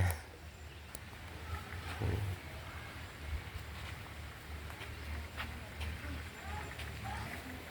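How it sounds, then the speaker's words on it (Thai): Low, rumbling elephant vocalizations at an elephant show in Chiang Mai, Thailand, heard from a distance amid outdoor crowd ambience and faint voices, with a few short louder bursts. "เสียงช้าง"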